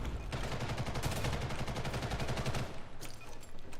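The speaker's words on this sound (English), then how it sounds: "Shots fired." Rapid automatic fire from a futuristic M4-style rifle in the shooter game Ghost in the Shell First Assault, a dense continuous burst of shots that stops briefly near the end before resuming.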